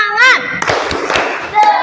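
Schoolchildren in a classroom doing a rhythmic spirit clap, a quick run of claps and thumps right after a raised chanting voice, with kids' voices mixed through the burst.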